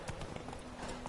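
Geralt's horse Roach gallops in The Witcher 3, a steady clip-clop of hooves at close range that runs the whole time with game ambience beneath it.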